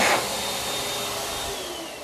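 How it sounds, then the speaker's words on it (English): An accelerator hand dryer in a convention center restroom blasts a loud, steady rushing roar of air that eases slightly toward the end, heard alone at close range. "we've got the ever popular accelerator hand dryer"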